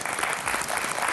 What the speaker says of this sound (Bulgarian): А сега аплодисменти и за следващият претендент тази вечер.